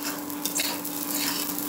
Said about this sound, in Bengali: চালটা ভাজা হয়ে গেছে